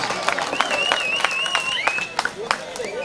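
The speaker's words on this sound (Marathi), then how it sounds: "टाळ्या वाजवा टाळ्या" Applause and cheering from a crowd at a village kabaddi tournament, a steady wash of clapping with sharp claps standing out, heard beneath a loud commentator's voice.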